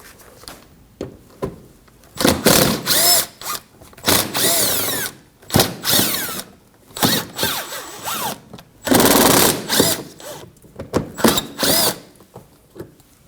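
Power drill removing 5.5mm screws from the front grille mounting area of a 2015-2024 Ford Edge, with repeated close whirring bursts of varying length separated by short pauses and ratcheting clicks, loud and without talk.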